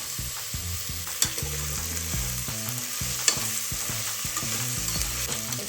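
Tomato and ginger-garlic paste fry in a pan for a vegetable pulao, with steady close sizzling broken by repeated scraping stirs and a couple of sharper knocks of the spoon against the pan.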